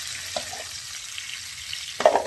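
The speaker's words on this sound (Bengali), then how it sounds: "পেঁয়াজগুলো একে একে ছেড়ে দিলাম। এই যে নাড়াচাড়া করে দিলাম।" Onions dropped one by one into hot oil for mutton chop, frying with a soft steady sizzle, then a louder stir and clatter of the spatula near the end.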